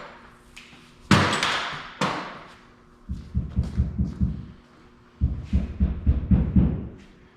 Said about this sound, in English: So if you hear ding and banging, that's what they're doing.